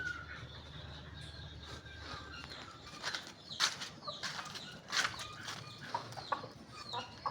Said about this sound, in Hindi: ये देखें मेरा असील सिंधी